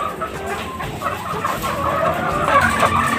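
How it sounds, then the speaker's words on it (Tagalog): Chickens clucking inside a chicken coop, repeated close clucks and squawks over a busy background, fairly loud throughout. "Amo ang manukan."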